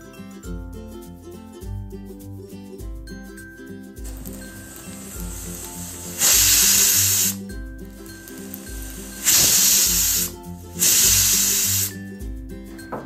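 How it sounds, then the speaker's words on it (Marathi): A pressure cooker lets out three loud hissing whistle bursts, each about a second long, over quiet background music. "आता कुकरचं झाकण लावून साधारणतः 3 शिट्ट्या करून घेणार आहोत आपण कुकरला"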